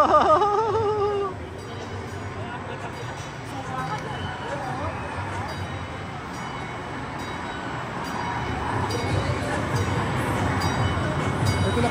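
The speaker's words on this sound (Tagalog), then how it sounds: "Ito na kaya ni Jomert yung tren." An amusement park train at Galaxyland clatters along steadily on its track, with rumbling and rattling throughout, while crowd chatter and voices carry in the background.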